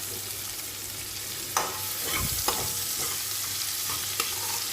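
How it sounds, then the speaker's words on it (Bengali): Onion paste fries in a pan for a pointed gourd and prawn curry, a soft continuous sizzle broken by a few distinct scraping stirs of a spatula, close up with no talking. "পেঁয়াজটা একটু ভেজে ভাজা ভাজা হলে"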